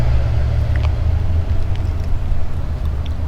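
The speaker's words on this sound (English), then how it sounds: "Sorry for the traffic noise." Low, constant rumble of road traffic drones past a summer vegetable garden, a steady engine hum with no distinct passing vehicles and no one speaking.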